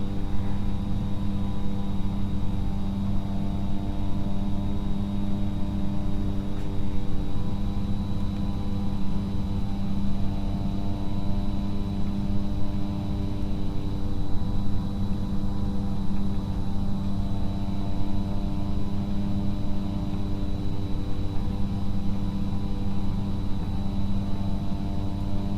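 A small training airplane's engine drones steadily in flight, a loud, constant hum with stable harmonic tones that fills the cabin without a break and with no voices over it.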